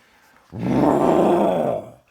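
A voice imitates the revving engine of a Mercedes S-Class coupe with a single low, rough growl about a second and a half long, rising and then fading out.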